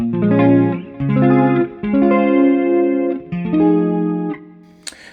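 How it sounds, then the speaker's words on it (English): Electric guitar chords ringing out with a shimmering chorus and pitch-detune doubling, several sustained strums in a loose jazz-fusion rhythm, loud and close. "I've put a pitch detune on it. Chorusing."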